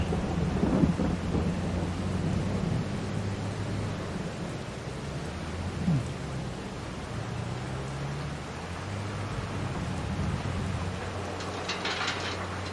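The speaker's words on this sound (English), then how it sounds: "An October thunderstorm." An October thunderstorm in a farming video game: steady rain hisses throughout while deep thunder rumbles roll in and out, with no talking.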